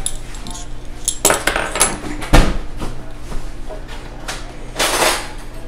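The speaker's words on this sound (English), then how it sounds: "And then the egg. You gotta beat it up a little bit." An egg is beaten in a bowl for banana bread, a few quick clinking strokes of a utensil against the bowl with scattered louder knocks, close by and with no talking.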